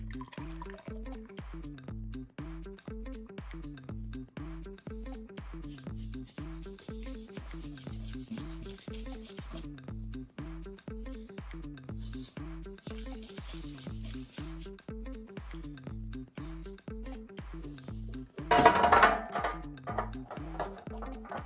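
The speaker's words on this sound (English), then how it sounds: "now combine your dry ingredients with wet ingredients" Dry ingredients being stirred into wet for a turmeric almond cake batter: a quiet, steady, regular scraping rhythm of about two strokes a second throughout, with a louder clatter near the end.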